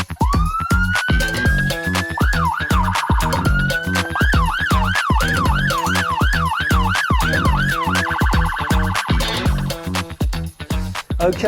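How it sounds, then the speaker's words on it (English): An old, long-abandoned American police car siren sounds close and loud, sweeping up into a long wail, then switching to a fast repeating yelp, then back to wailing before cutting off. "See whether the sirens are hooked up and working."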